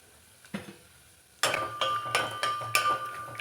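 Dry fruits and cardamom pods lightly roasting on low heat in a pan for semiya payasam, with a soft scrape, then from midway a run of close clinks and stirring scrapes over a faint sizzle.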